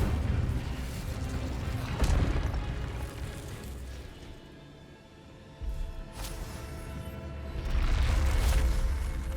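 A fiery Incendio spell bursts out during combat in the game Hogwarts Legacy, with several booming, rumbling blasts rising and falling over a few seconds, loud and close, amid other battle noise.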